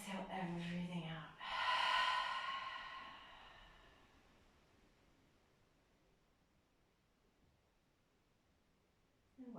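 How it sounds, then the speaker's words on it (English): A deep breath drawn in through the nose and let out through the mouth during a yoga cool-down before savasana, a breathy hiss in the first couple of seconds that trails off into quiet. "Deep inhale into your nose. And out of your mouth, exhale everything out."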